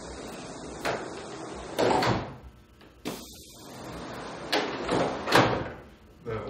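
Pneumatic cylinders 24 inches long drive rooftop solar panels along drawer slides on an overland RV rig, giving repeated sharp sliding clunks and hissing thumps with short gaps, close and moderately loud.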